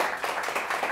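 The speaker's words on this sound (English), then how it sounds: "Okay, that deserves a round of applause" Brief burst of clapping from a small group in a kitchen cooking segment, dense and steady for about a second, close and moderately loud with no talk over it.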